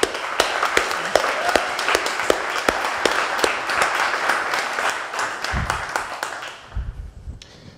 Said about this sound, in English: Let's give David Eagleman a huge round of applause and welcome